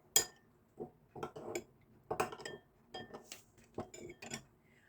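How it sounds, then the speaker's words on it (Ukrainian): A spoon clinks and scrapes against a bowl of broth as gelatin is stirred in, in several short bursts, with quiet pauses between the taps. Close and fairly soft. "засипаю туди столову ложку з желатином і розвожу"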